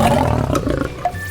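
A lion roars in a car, one loud close roar that dies away over about a second.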